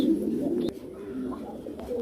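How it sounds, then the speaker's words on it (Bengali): A big Lahore pigeon coos close by, low soft throaty calls repeating in a rolling rhythm, with faint background clatter and no talking. "অ্যাশ রেড বার মাশাল্লাহ বিগ সাইজের একটা লাহোর কবুতর একদম ফ্রেশ"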